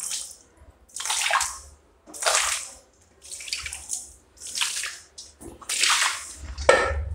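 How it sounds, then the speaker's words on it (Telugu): Water poured in repeated splashing bursts over freshly cleaned floor tiles after removing cement stains, roughly six separate close pours with short pauses between them. "ఇప్పుడు వాటర్ వేసి చూద్దాం ఫ్రెండ్స్ ఎట్లా క్లీన్ అయిందో."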